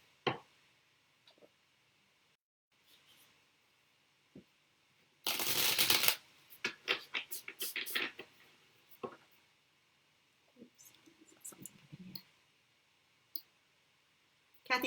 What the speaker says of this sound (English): I'll just shuffle while I see if you have a question.